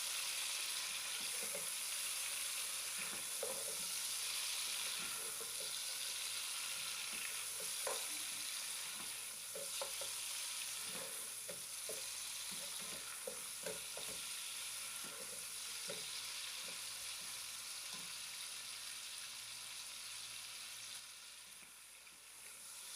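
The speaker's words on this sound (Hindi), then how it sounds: "अब प्याज के साथ बीफ को हम 5 से 7 मिनट तक अच्छी तरह से फ्राई कर लेंगे" Beef and onions fry in a pan with a steady, loud sizzle and crackle that runs throughout, broken by occasional stirring scrapes and clicks.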